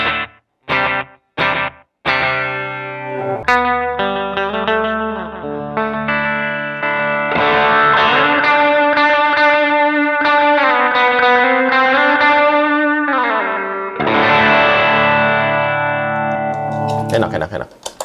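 Electric guitar played through an Echo Station delay pedal: a few sharp plucks and then long, sustained chords and bending notes that smear into repeating echo tails. The playing is loud and close, and any speech sits only around the edges.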